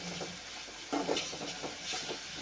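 A spoon stirs spices into sour toor dal with eggplant and green chilies in a pan, making soft, quiet scraping swishes with a faint sizzle.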